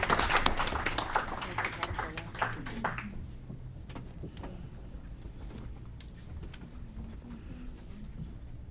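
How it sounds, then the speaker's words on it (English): Audience applause at a city council meeting in Aurora, a burst of clapping that is loudest at first and fades within a few seconds, followed by quieter room murmur and scattered talk. "Let's give them a round of applause."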